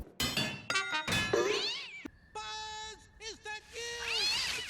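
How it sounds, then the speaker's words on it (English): A cartoon cat meow sound effect, the one from Toy Story reused in Inside Out, plays as a string of several close, clear, pitch-bending meows and mews of varying length, one after another. "When Joy and Sadness run into Bing Bong, there's a cat sound effect, which is actually the same one used in Toy Story."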